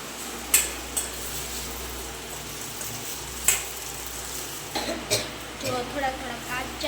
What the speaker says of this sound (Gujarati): નાખી દીધા બટેકા થોડીક આપણે ચડાવી દઈશું તેલમાં